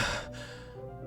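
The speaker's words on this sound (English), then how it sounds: "A sharp inhale, like someone is sucking air through their teeth." In Doki Doki Literature Club, a single sharp, breathy inhale hisses close up, like air sucked through the teeth, then fades into quiet tones.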